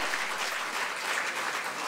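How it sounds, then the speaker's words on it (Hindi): Steady applause from an audience at an appointment letter ceremony in Ranchi, clapping continuously and fairly evenly for a pipeline inspector recipient, moderately loud with no talk over it. "जोरदार तालियां होनी चाहिए।"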